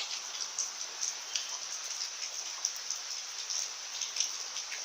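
Heavy rain pours down during Cyclone Yaas in Odisha, a dense, hissing wash of falling water with scattered louder drop impacts, steady and close throughout.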